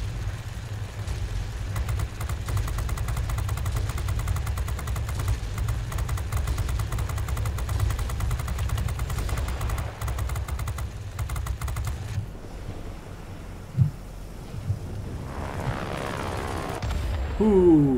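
Rapid machine-gun fire rattles in a long, dense burst from a BF 110 C-6 fighter plane in World of Warplanes, over a steady low engine drone, then cuts off before a short thump and a final sweeping whine.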